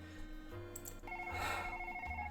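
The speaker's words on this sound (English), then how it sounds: "The hotel phone's shrill ring pierces his ears just as he's about to fall asleep again" Hotel phone ringing in a visual novel game, a shrill electronic trill of rapid repeated pulses over soft background music, fairly quiet and close.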